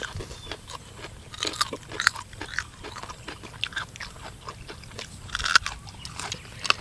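Crunchy spicy cuttlefish salad with fermented fish sauce being bitten and chewed up close, a quiet series of irregular crisp crunches and bites with no talking.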